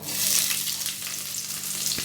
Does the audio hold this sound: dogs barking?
no